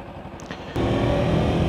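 A Kawasaki Versys X 250 Tourer motorcycle rides on a road in eastern Bali during break-in, its engine note steady and close, swelling louder partway through.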